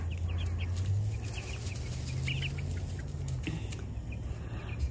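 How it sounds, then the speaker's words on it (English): Many small Cornish Cross meat chicks peep and cluck softly together in a busy, continuous chorus, close by, over a steady low hum. "we have all the baby chicks, our meat birds, in here."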